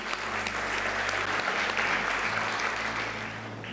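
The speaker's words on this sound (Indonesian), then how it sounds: "Tepuk tangan dulu buat Tuhan Yesus." Church congregation applauding during an Indonesian service, steady full clapping from a crowded hall lasting throughout, with a low hum underneath and no speech over it.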